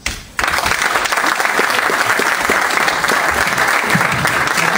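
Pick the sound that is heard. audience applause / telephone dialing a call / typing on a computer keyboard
audience applause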